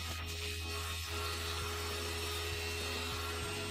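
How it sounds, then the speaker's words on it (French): Two workshop vacuum extractors for power tools run together with a steady, even hum and faint whine, with nothing else over the drone. "je peux démarrer les 2 aspirateurs en même temps"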